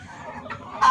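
Soft clucking from free-range village chickens roaming loose, faint and close with a brief louder squawk at the end.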